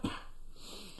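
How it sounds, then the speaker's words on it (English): A person clears their throat with one short, loud, rough burst right at the start, then a quiet close-up breathy tail. "So glad I can clear my throat."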